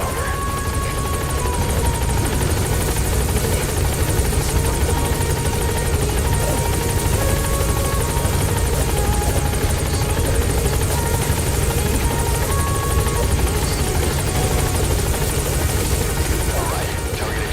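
A helicopter in the video game Metal Gear Solid V, its rotor and engine making a steady, unbroken drone that stays loud and even for the whole stretch, with no voices.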